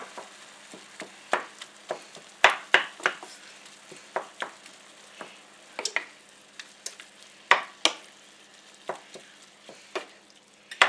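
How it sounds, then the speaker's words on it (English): Pound of ground beef browning in a pan for an improvised casserole, a steady crackling sizzle broken by frequent sharp scrapes and clacks of a utensil stirring the meat, close and clear with no talking. "in this pan I have a pound of ground beef that I am browning up"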